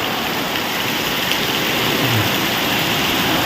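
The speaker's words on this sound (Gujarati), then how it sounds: "ચોમાસાના સીઝન નો પહેલો વરસાદ આવો ચાલુ છે" Steady dense patter of the season's first monsoon downpour in a village near Botad, a continuous even hiss holding at constant loudness with no voices and no pauses.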